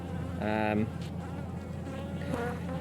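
Honeybees buzz around backyard hives, a steady close drone of many insects with individual bees droning louder as they pass near.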